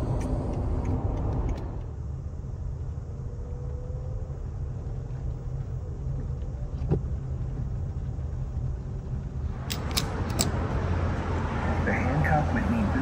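A 2009 Range Rover cruising at speed on the road, with a steady low engine and road rumble throughout and brighter tire and wind noise swelling near the end; a voice talks over it at times.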